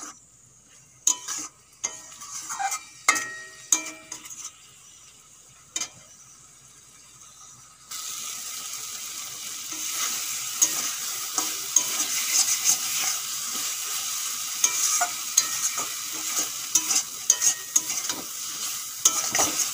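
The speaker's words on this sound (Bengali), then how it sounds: "4-5 মিনিট মশলার সাথে আমি বেগুনটা কষাবো" Eggplant pieces stir-fried with cooked-down spices in a pan during a Bengali dry fish curry, with a steady loud sizzle that jumps up partway through and is punctuated by repeated scraping and clinking of the spatula, and no talking.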